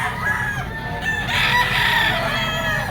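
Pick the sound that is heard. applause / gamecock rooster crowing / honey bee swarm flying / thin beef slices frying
gamecock rooster crowing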